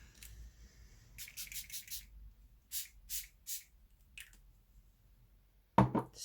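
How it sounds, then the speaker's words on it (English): A rose-scented spray bottle is pumped in short bursts: a quick run of four hissing sprays, then three more, a pair of fainter puffs, and a loud close thump near the end in a quiet room. "just going to spray the inner child spray one more time"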